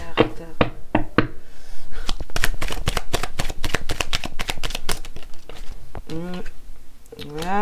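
A deck of cards being shuffled, with rapid close riffling bursts and a dense ruffle in the middle, while a voice talks at the start and end.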